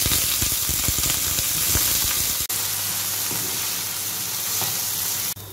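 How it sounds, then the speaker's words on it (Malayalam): Brinjal frying in a pan with onion and green chilli, a steady close sizzle that runs the whole time, busier scraping stir strokes early on, then a sudden brief drop and a calmer, even hiss. "വഴുതനങ്ങ ഫ്രൈ ആയി കഴിയുമ്പോൾ നമുക്ക് അതിലേക്ക് ഉപ്പ് ഇട്ട് കൊടുക്കാം"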